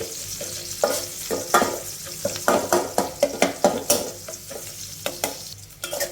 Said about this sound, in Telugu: ఇందులో లైట్గా ఈ వెల్లుల్లి వేగనివ్వాలి